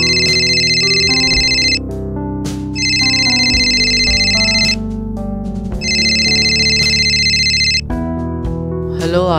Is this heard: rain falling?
no